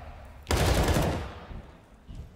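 Gunfire in Counter-Strike during a professional Cloud9 vs FaZe match on Cache at IEM Katowice 2018, likely Desert Eagle pistol shots: a loud, dense burst that starts abruptly and fades over about a second, with quieter noise after.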